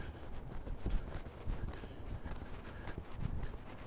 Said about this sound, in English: You have to show your horses at a regular lope like this